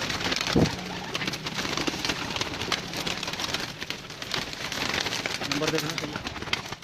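Pigeons coo repeatedly in a loft, a close soft cooing under steady background noise while people talk throughout.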